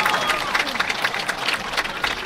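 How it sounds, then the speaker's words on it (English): Spectators at a polo match applaud a goal, a burst of crowd clapping and cheering that fills the moment, with voices mixed in. "let's give him a round of applause"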